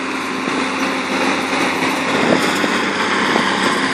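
International Harvester tractor engine running steadily during fertilizer spreading, a loud, even mechanical drone held throughout with no talk over it.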